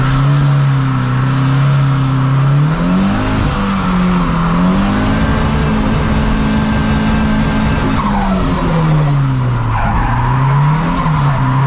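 Loud, sustained tire squeal from a turbocharged Volvo 740 drift car with slippery tires, its engine droning and rising and falling in pitch as it slides continuously for over ten seconds.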